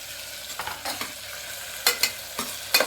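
Tomatoes go into a pan of browned, softened onions and are stirred with a spoon, giving soft frying sizzle broken by several sharp scraping strokes against the pan, close and without talk.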